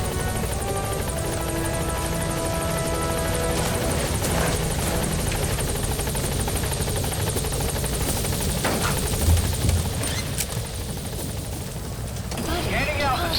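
Pequod, the support helicopter in the video game Metal Gear Solid V: The Phantom Pain, comes in to land with a continuous close rotor drone and engine whine that holds steady throughout, while voices talk over it.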